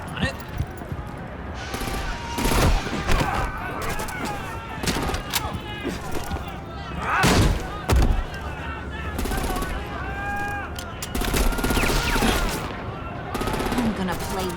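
Gunfire in Batman: The Enemy Within, Episode 2, comes in repeated sharp cracks and bursts scattered across the stretch, some loud and close, mixed with speech and other game sounds.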